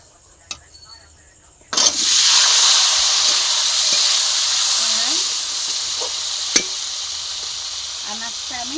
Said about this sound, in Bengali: ওই কড়াইতে আমি আরেকটু তেল দিয়ে দিয়েছি, দিয়ে দিচ্ছি হচ্ছে গোটা জিরে।